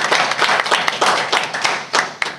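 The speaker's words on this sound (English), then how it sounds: "Let's give a big round of applause to Miss Pooja." Audience applause at a Start-Up Mindset workshop at Swasthika National School, with dense, steady clapping from many hands filling the hall for a couple of seconds before trailing off, no talking over it.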